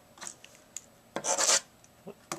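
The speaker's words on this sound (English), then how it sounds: "We'll write on it with regular lead pencil" A regular lead pencil scratches across notebook paper in a few short close strokes, one longer rasping stroke in the middle, soft and dry.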